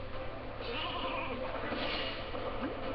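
A sheep in the video game Skylanders SuperChargers bleats in a wavering, drawn-out cry, close and fairly loud over a dull steady background.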